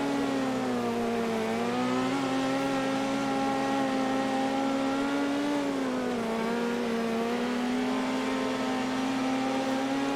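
Midget race car engine in the World of Outlaws Dirt Racing video game revs steadily and loudly, a sustained buzzing drone that dips and swells in pitch with throttle changes, alone throughout.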